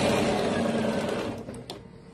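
A sewing machine stitches fabric in a steady, close mechanical whir that slows and drops off near the end, followed by a couple of light clicks.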